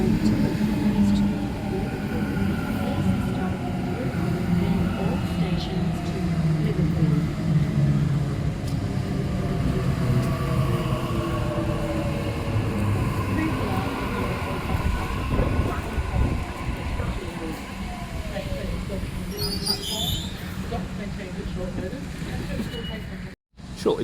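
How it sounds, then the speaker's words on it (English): A Sydney Waratah Series 2 electric train, set B6 on a Liverpool service, rumbling at a station platform, with a loud continuous roar and rattle of the carriages and a brief high squeal near the end. "Waratah Series 2 set B6 on a Liverpool service."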